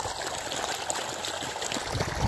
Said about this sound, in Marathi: तिकडं पाणी चालू आहे।